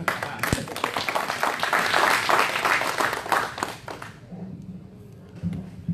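A congregation claps together at a church anniversary service for pastors, a dense, lively round of applause that holds for several seconds, then thins out and drops away as a voice begins speaking.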